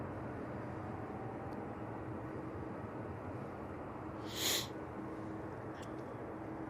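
Emirates airliner engines starting up at Manchester Airport: a steady, broad, distant roar holds throughout, with a brief sharper hiss swelling near the end.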